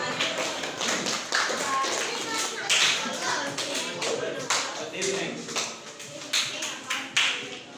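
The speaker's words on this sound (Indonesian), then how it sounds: "Tepuk tangan untuk kelompok 3 ya." Scattered hand claps from a small school class, uneven and fairly soft, with a few voices murmuring among them.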